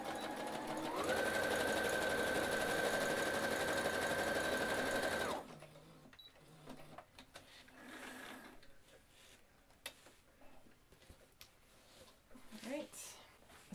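A sewing machine runs a zigzag stitch along the side seam of a fabric shoe bag, a loud, steady motor whir for several seconds that stops abruptly, followed by quieter handling noises and softer mechanical taps.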